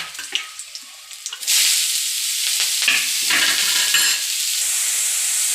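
Shredded cabbage with garlic stir-frying in a hot pan: a few scrapes and taps, then a loud, steady sizzle as the cabbage goes in, with stirring clatter over the hiss throughout.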